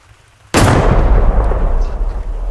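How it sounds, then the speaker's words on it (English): A sudden loud explosion in a Gorilla Tag sandbox mod bursts after a quiet moment, then a long rumbling roar that slowly fades. "then you can shoot it and it will explode"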